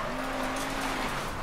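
A tuned, roofless car in the video game Mafia 3 drives along with a steady engine drone and a faint high tone, holding a constant loud level with no speech.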